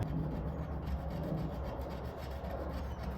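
Thumb rubbing sticky adhesive residue off the back of a Saab 900 Turbo badge, a close, steady scraping friction noise with quick repeated strokes and no talking.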